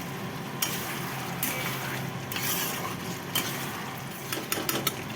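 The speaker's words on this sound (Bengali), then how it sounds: "আলু পটলটা কষাচ্ছি।" Potato and pointed gourd sautéed in a pan for a vegetable curry, a soft continuous frying hiss broken by several sharp clinks and scrapes of a spoon stirring against the pan.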